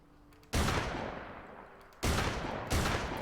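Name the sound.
MC-25 semi-auto shotgun firing in video game Fallout 4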